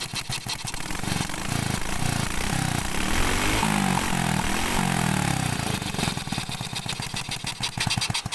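A Honda Supra Fit motorcycle engine runs after repair to its ignition coil, idling loud and close with a steady, slightly uneven putter that grows rougher and more pulsing toward the end.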